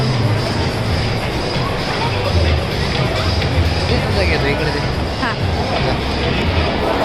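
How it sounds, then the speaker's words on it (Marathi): Dense, loud crowd babble fills a busy shopping mall on New Year, many overlapping voices with no single speaker standing out, continuous throughout. "मॉल म्हटलं की भरपूर अशी गर्दी वगैरे त्याच्यामुळे आवाज पण तेवढाच येत होता"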